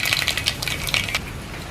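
Mustard and fenugreek seeds splutter in hot coconut oil, a quick run of sharp crackling pops close by with nothing else heard.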